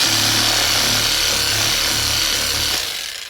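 AL-KO cordless reciprocating saw driving a metal wire brush, a loud steady buzzing scrub with a low motor hum that runs for about three seconds and then winds down, with no talk.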